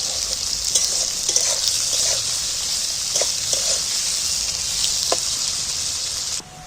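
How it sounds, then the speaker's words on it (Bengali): Three hundred grams of onions fry in hot oil for egg biryani, a steady bright sizzle with occasional stirring clinks and scrapes, close and continuous until it suddenly drops away at the end. "দেখো পেঁয়াজটা আমার লাল করে মজে করে ভাজা হয়ে গেছে"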